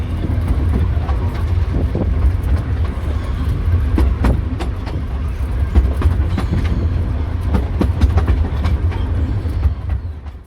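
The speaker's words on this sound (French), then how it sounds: "Le chemin de fer des baies du Nord se compose des trains en miniature" The North Bay Railway miniature train in Scarborough rumbles along steadily, loud and close, with rhythmic clickety-clack of wheels over rail joints throughout.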